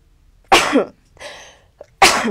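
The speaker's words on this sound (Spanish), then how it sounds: "ya vieron cómo se estornuda" A person sneezes loudly and close, two sharp bursts a moment apart with a brief breathy sound in between.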